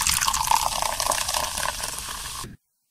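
Water pours steadily into a glass or container for about two and a half seconds, close and fairly loud, then stops abruptly into silence.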